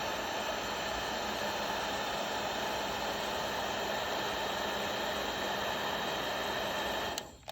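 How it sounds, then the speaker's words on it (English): A heat gun blows hot air onto the blower assembly of a Pacific Energy Esteem wood stove, a steady close broadband roar held for about seven seconds before it cuts off. "So I'm going to take the heat gun."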